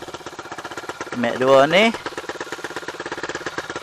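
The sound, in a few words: Yamaha 125Z motorcycle engine idling with modified timing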